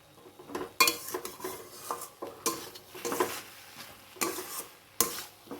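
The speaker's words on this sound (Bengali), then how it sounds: "আমি ভেজে রাখা আলুগুলোকে এর ভেতরে দিয়ে দেবো।" Fried potatoes tipped into a pan of spices for a masoor dal dish and stirred, sharp metallic spoon scrapes and clatters recurring every second or so over a light sizzle, near and loud.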